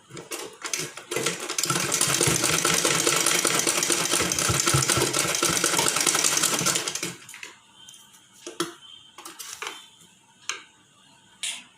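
Sewing machine stitching a golden border onto a round-neck blouse, a fast, even mechanical whir running loudly for about five seconds, then stopping into scattered clicks and handling knocks.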